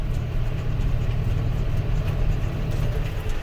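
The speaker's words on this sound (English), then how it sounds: "So, I got my GPS set up, so tractor's driving itself." A tractor raking hay while steering itself on GPS, its engine a steady low drone with a throbbing rhythm, heard close from the cab, continuous and without talking.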